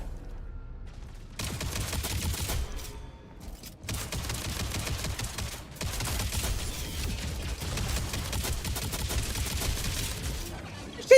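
Gunfire in Mass Effect 2 Legendary Edition, sustained bursts of shooting that keep going with short pauses, loud and close, with someone talking over parts of it.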